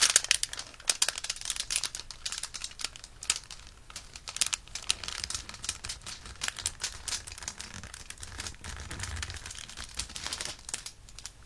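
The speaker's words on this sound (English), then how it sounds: "I didn't have any wax paper, I'm sorry, so we'll have to make do with aluminum foil. It's a little loud" Aluminum foil crinkling and rustling close up, a steady stream of crisp crackles and crunches that rises and falls as the sheet is handled, with no voices.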